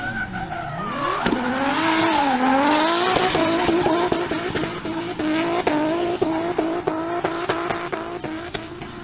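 Holden HZ Ute engine running as the car moves into a workshop, revs rising and falling through a steady harmonic drone, with repeated sharp clicks or knocks over it; loud and close throughout.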